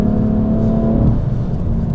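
BMW M3 CS with S55 engine revving, a loud, close, continuous engine tone that holds steady and then falls away, with no talking.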